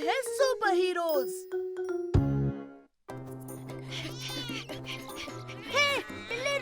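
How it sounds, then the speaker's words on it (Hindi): A cartoon cat meows several times in a children's animated show, with clear repeated high cries, a jingling burst in between, and sung or spoken voices close up around it. "हे, बिल्ली रुक जा।"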